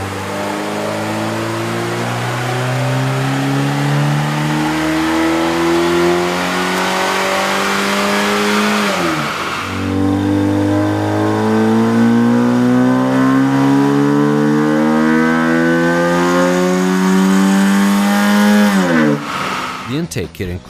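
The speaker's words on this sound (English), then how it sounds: "we ran the vehicle on the dyno to test the sound comparison versus the stock intake" A car engine fitted with a K&N cold air intake revs up repeatedly on a dyno in long sweeping climbs, loud and close, dropping back between pulls.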